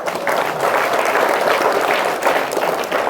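Dense, continuous audience applause fills a public reading-event hall in Induri, loud and sustained throughout with no break and no voices rising above it.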